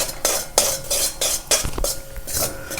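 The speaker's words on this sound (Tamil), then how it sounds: "கொஞ்சம் நெய் விட்டு தான் நல்லா கடலை மாவு மைசூர் பாக் பண்ணுற மாதிரி நல்லா போட்டு வறுத்துன்றேன்" Besan flour roasting in ghee is stirred in a pan for a Tamil kadalai maavu payasam, with repeated scraping strokes of a spoon against the metal pan and a faint sizzle underneath, close and steady.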